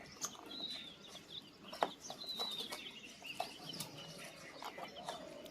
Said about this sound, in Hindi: ये देसी मुर्गे हैं।